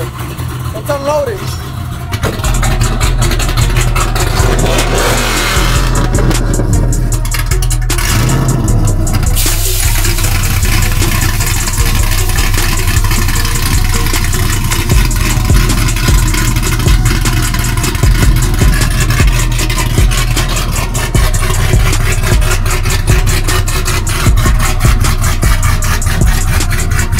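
A supercharged 5.3 V8 in a GMC Sierra truck runs with a steady, loud, continuous drone throughout, holding a constant rumble with some rising rev changes early on.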